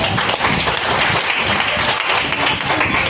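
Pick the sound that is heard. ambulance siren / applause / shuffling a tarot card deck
applause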